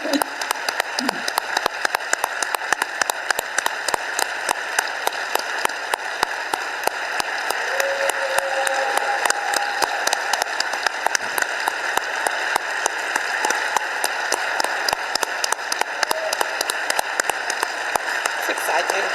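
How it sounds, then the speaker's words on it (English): Sustained applause from a conference audience at an international occupational health congress in Marrakech, a steady wash of dense clapping that fills the whole stretch, with a faint voice briefly audible over it. "Big applause"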